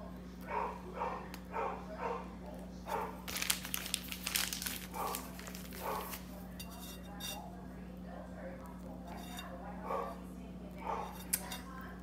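A pet dog barks in short bursts, several sharp yaps spaced across the stretch, heard over a steady electrical hum and kitchen clinks while a person talks in the background during cake decorating.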